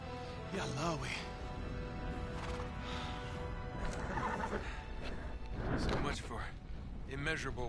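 Horses neigh and whinny repeatedly in a desert scene from the video game Uncharted 3: Drake's Deception, several loud rising calls mixed with hoof clip-clops, crashing effects and voices talking over the game.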